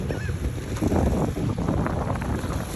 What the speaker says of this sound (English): A little breeze blowing, but hot breeze.